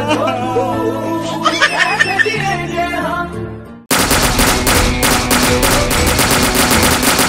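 Rapid bursts of automatic gunfire from a sound effect in a comic Bangla border guard skit, loud and dense, crashing in abruptly after a stretch of music with laughter and running continuously to the end.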